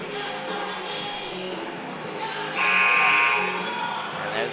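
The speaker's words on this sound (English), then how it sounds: "Buzzer getting ready to call the players back to court." Arena buzzer blares loud and steady for about a second at a basketball game timeout, rising over a busy crowd murmur with voices in the background.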